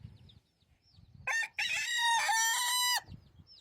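A rooster crows once, loud and close, its strained call cutting in sharply and holding for about a second and a half before breaking off, with quiet low rustling before and after and no talking.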